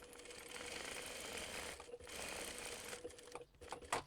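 A sewing machine bastes a seam on a crossbody bag, running in a steady fast whir of stitching with a few brief pauses and restarts, fairly quiet and without speech.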